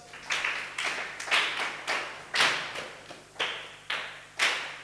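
A classroom of schoolchildren claps in a mathematics lesson, about eight or nine loud, separate group claps set in a steady chanted rhythm, close by, with no talk over them.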